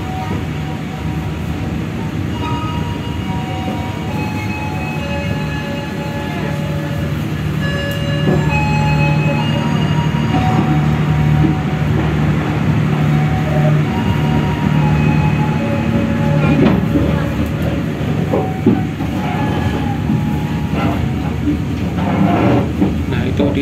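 Interior of the KA Banyubiru passenger train running from Solo to Semarang: a constant rolling rumble with rhythmic wheel clatter and occasional squeals and creaks, while a person talks intermittently over it.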